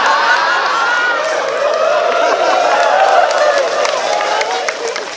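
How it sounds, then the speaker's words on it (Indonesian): An audience at a religious lecture gathering in South Korea applauds and cheers in a loud, continuous wash of clapping that fades slightly near the end, with voices mixed in. "Sing tepuk tangannya ketok kulino."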